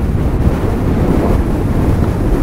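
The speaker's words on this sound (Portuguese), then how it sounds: "o vento tá sinistro" Strong wind on an active volcano roars into the microphone in loud, continuous low buffeting gusts, with nothing else audible.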